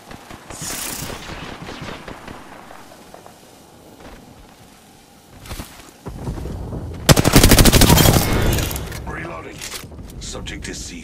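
Video game gunfire: sporadic shots give way to a loud, sustained burst of automatic machine-gun fire midway, with a voice talking over the action.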